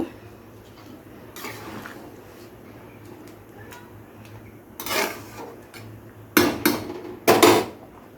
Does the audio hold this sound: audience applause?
no